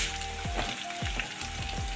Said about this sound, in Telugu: బ్రౌన్ కలర్ వచ్చేదాకా వేపుదాం